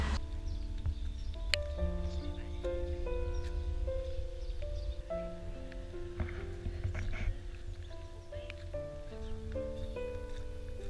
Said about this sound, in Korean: 오늘은 날씨가 비가 오네요.